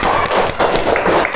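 A classroom group clapping together, a dense, steady burst of applause filling the whole short moment, close and loud.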